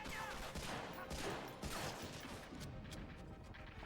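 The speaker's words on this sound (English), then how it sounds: "How to shoot this barrel?" Gunfire aimed at a wooden barrel in the video game Medal of Honor: Frontline, with a dense burst of shots and crashing impacts filling the first few seconds before the sound thins out.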